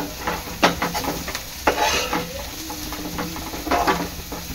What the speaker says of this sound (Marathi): वाटणामध्ये पाणी टाकून हा मसाला एक 3 ते 4 मिनिटं मी शिजवून घेणार आहे